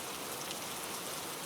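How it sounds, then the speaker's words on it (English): A heavy rain downpour hisses steadily and evenly outdoors, a dense unbroken wash of falling water with no voices or other sounds. "watching the downpour just outside, like a curtain of water"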